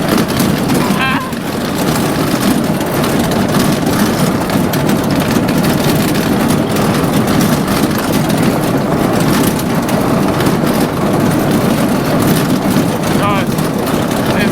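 A go-kart engine fitted with motorcycle shocks chugs roughly and unhealthily at close range, a dense steady low rumble with gravelly crunching texture running the whole time, with people talking over it.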